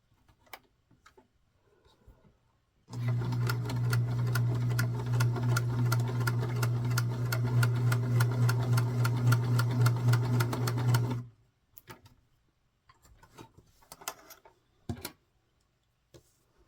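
A sewing machine stitches the back seam of a small doll skirt in one steady, rapid run lasting about eight seconds, with quiet handling noises of fabric before and after.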